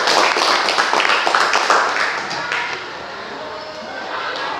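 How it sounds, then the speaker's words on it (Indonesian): Clapping from a classroom audience after a student group's automotive engineering presentation, a burst of claps that thins out and fades to quiet room tone toward the end. "Berikan tepuk tangan."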